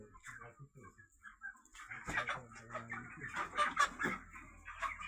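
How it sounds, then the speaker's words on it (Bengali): Chickens in a large poultry farm holding a few thousand birds cluck and murmur nearby, soft at first and then swelling into a busier, overlapping chorus of short clucks and calls. "এই যে দেখুন বিশাল মুরগির ফার্ম।"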